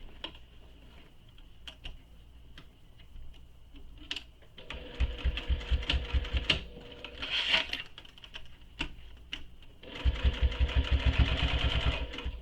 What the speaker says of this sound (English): Now I'm going to top stitch.